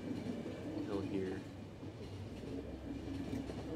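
Moving train in The Final Station, a low rumbling roll with a faint clatter of wheels running steadily underneath, quiet and continuous throughout.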